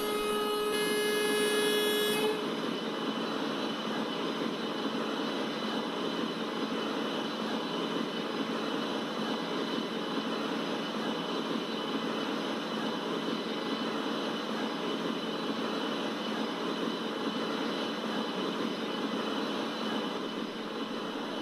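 The 16335 Nagarcoil Express pulls away from Palghar station on the Western route. A long horn opens the clip, then a steady, loud rumble of the moving train runs evenly to the end.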